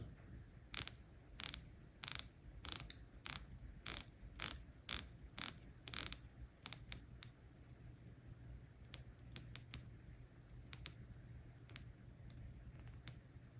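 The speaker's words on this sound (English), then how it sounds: "Let's check out the bezel action." Rotating bezel on an IXDAO 6542 GMT watch, turned click by click in a steady run of sharp, close ratcheting ticks that slow down and turn softer and more irregular toward the end, with no talking.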